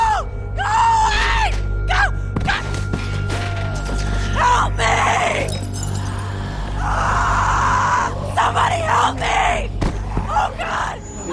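Screams from a girl in The Walking Dead game ring out again and again, loud, rising and falling, with yells, gasps and mechanical noise around them.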